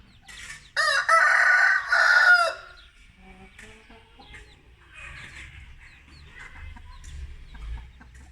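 A rooster crows loudly nearby in one drawn-out call, followed by quieter rustling and faint background noise.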